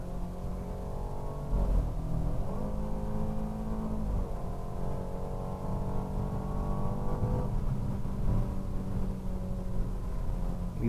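A BMW Z4 with a 2.0 turbo engine accelerates hard past a Lexus, its steady in-cabin engine drone rising in pitch through the gears, loud and continuous with no talking.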